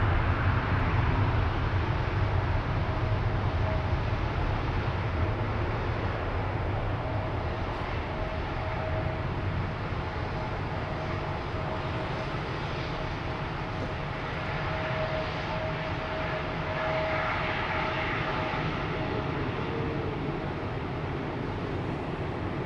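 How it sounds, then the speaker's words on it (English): A Delta Airbus A330neo jet departs Amsterdam Schiphol Airport, its engines a broad, continuous roar that stays fairly distant and even throughout, with a little wind buffeting mixed in. "A330 Neo."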